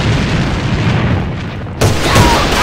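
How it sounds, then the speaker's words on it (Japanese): A grenade in the shooter game AVA goes off with a sudden loud boom, a sharp blast cutting in over steady background noise about two-thirds of the way through, followed by a short rumbling tail. "手榴弾投擲。"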